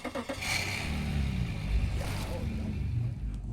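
Outboard engines on an adventure boat in Alaska firing up, a low rumbling idle that settles into a quiet steady hum, with people talking nearby.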